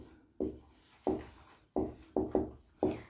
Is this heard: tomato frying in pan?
no